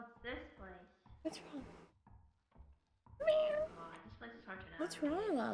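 A pet cat meows a few times in short, rising cries close to the microphone, mixed among bursts of a person's speech and a quiet room background.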